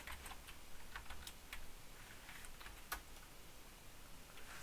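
Quiet clicking of computer keyboard keys in irregular bursts while coding a ReactJS component, faint and close with a low background hum.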